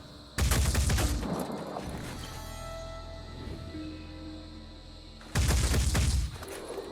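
Weapons in the tactical game Phoenix Point go off in two loud, rapid bursts of gunfire, one at the start and one near the end, with a quieter humming and rumbling stretch in between.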